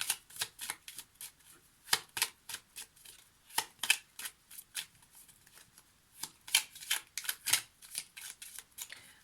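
Oracle cards are shuffled by hand for a tarot reading, giving close, quiet bursts of crisp riffling and slapping in an uneven rhythm that runs throughout. Nobody speaks.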